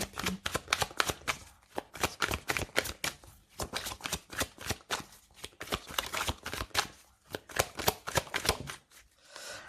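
Tarot cards are shuffled close up in quick, rhythmic riffling bursts, with brief pauses between rounds and no talking over them.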